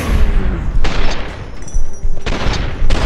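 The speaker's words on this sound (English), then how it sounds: "Maybe we should open with the pistol." Rapid bursts of pistol fire crack out in a video game, loud and close, in several clustered volleys separated by brief lulls.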